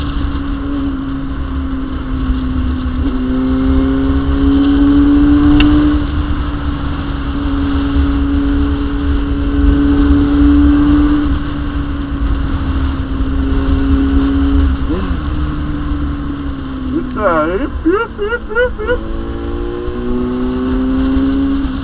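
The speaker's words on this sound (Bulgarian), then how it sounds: "Това не е от силните мотори." A motorcycle engine drones steadily while riding, its pitch rising and dipping with throttle changes, with a burst of revving near the end and wind rumble throughout.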